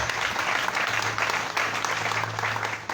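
A church congregation applauds during a French sermon, the clapping sustained and fairly faint, with a low steady hum underneath.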